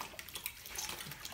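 Water splashes and runs steadily as a West Highland White Terrier is bathed. The sound is close, soft and continuous, with no voices, over a brief moment.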